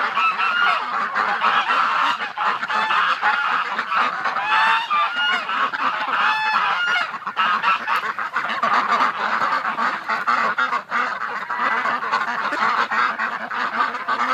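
Ducks and geese honking and quacking outdoors at dawn, a dense, continuous chorus of overlapping calls at close to moderate distance.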